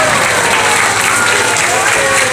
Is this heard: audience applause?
yes